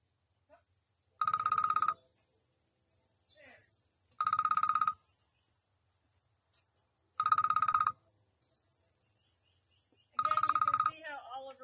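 A telephone rings four times for an unknown caller, each ring a loud, close burst of about a second, evenly spaced roughly three seconds apart with near silence between.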